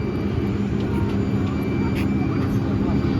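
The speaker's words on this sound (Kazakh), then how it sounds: "Да, самолет, хорош." An airplane's engines give a steady, loud broadband roar that holds without a break throughout, with people's voices talking over it.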